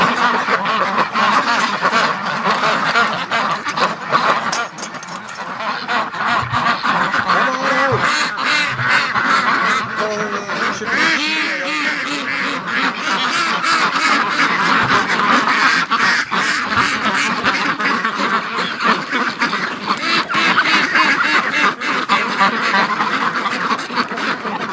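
Breeding ducks at a barn give a loud, busy chorus of close quacking that overlaps continuously, with some goose-like honks mixed in and no clear talking.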